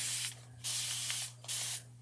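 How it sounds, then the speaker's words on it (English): A handheld spray bottle mists water over a chalk transfer on a silicone craft mat, three crisp close hissing bursts evenly spaced over a low steady hum. "I'm just going to spray it"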